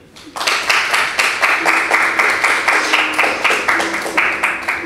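Audience applause for a musical guest, a small crowd clapping rhythmically and steadily from a sudden start, close and fairly loud, with a faint voice underneath.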